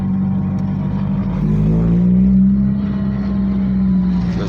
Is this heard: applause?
no